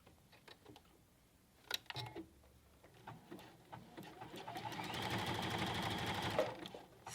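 A sewing machine stitches a sleeve band on its free arm, giving a few short bursts and then a steady, close mechanical whirring run of several seconds before it stops.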